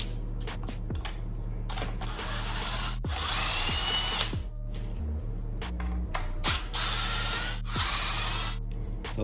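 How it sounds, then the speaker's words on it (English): An 8mm socket driving out the battery-pack bolts of a Bird 3 electric scooter. A close power-tool whir runs in several bursts with short pauses between them. "So to remove these, what I used was an 8mm socket."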